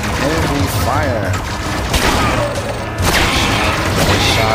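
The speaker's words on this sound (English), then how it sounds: "Taking heavy fire." Heavy gunfire and explosions blast continuously in the Men In Black Galaxy Defenders video game, with rapid booming shots and crashes filling the scene at high volume.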